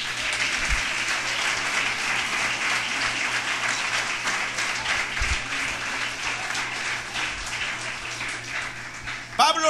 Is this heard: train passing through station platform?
no